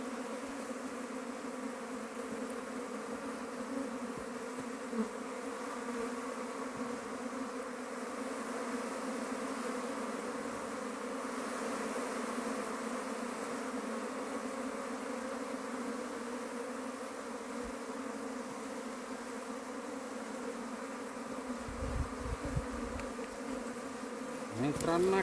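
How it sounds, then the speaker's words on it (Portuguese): A dense swarm of honey bees buzzes steadily and close throughout a swarm capture, a continuous droning hum with brief low knocks and rustles near the end. "as abelhas voam todas atrás dela"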